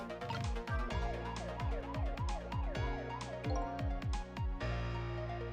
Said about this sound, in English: Let's turn on the siren!